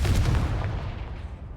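A Confringo spell explosion in Hogwarts Legacy, a single deep booming blast that rumbles and fades over about a second and a half, loud and close.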